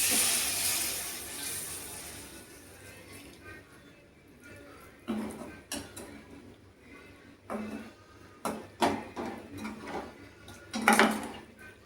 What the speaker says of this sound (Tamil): ஒரு அப்படியே தண்ணி ஊற்றிடுவோம்.